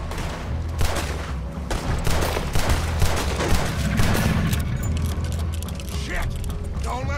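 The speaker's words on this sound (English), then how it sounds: "Put every bullet you got in him!" Sustained gunfire in Red Dead Redemption 2 as a group shoots at an approaching threat, dense overlapping shots and mechanical clatter forming a loud continuous barrage, with someone shouting over it.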